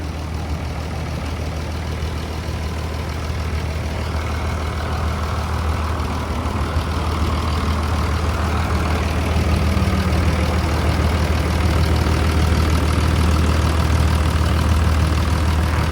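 A Hino W06E six-cylinder turbo diesel engine in a Hitachi RT200W pneumatic tire roller idles steadily close by, a deep continuous rumble with a low throb that grows slightly louder toward the end.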